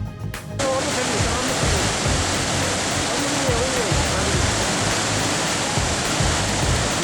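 Mosi-oa-Tunya, Victoria Falls in Zimbabwe, roars as a loud, dense, unbroken wash of falling water, close and constant, with a voice faintly audible beneath it at the start.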